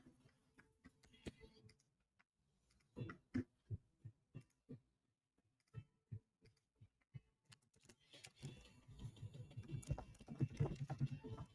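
Someone types on a computer keyboard in quick, uneven bursts of close, faint clicks with short pauses between them, and a louder jumble of clatter arrives toward the end.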